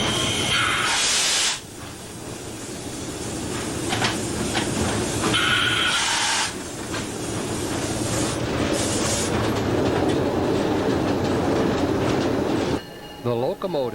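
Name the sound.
Adirondack Railroad locomotive pushing passenger coaches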